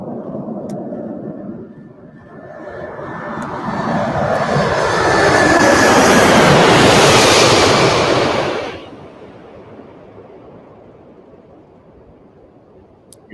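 A large aircraft flies in to land, its engine roar building from a low rumble into a broad, loud whooshing swell that peaks and then falls away to a quieter distant drone.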